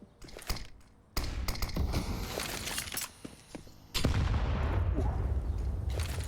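Tech-9 and Desert Eagle gunfire in a professional Counter-Strike match on Inferno, sharp shots in quick clusters, including a near rapid volley, with footsteps and a burst of heavier fire near the end.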